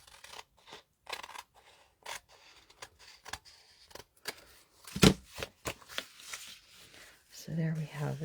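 Scissors snip through junk journal paper in short irregular cuts, with rustling paper handling between snips and a louder crunch midway, close and fairly quiet with some talking.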